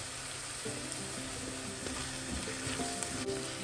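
Sliced onions sautéing in a pan for a chicken and potato curry, giving a steady, fairly soft sizzle with occasional faint stirring taps and no talk.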